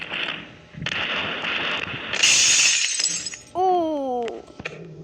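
Glass is crushed in a grinder, with sustained loud crunching and shattering that grows harsher midway, then gives way to a rising whine as the mechanism runs on.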